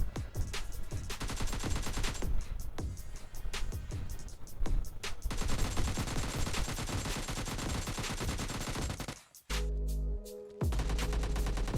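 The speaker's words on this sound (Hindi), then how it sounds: "वाकई ये शॉटगन बड़ी काम की निकली।" Shotgun and other gunfire ring out in PUBG Mobile Lite, dense rapid bursts and sharp cracks filling most of the clip, with a brief lull and a few heavier blasts near the end.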